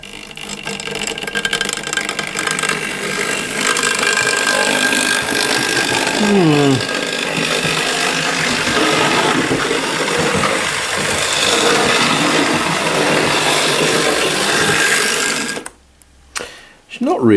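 Hornby Dublo N2 LNER tank engine model locomotive motor running noisily, a steady loud whirring and rattling buzz that continues for about fifteen seconds before stopping abruptly, with speech over part of it.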